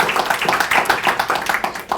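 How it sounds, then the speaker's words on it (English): Brief round of clapping from a small group at an annual community meeting, honoring staff and a retiring employee; irregular, moderately close hand claps with a faint voice underneath. "So round of applause for the"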